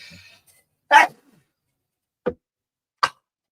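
A single sharp sneeze bursts out in a quiet room, followed by two brief, faint clicks or throat sounds a second or so later.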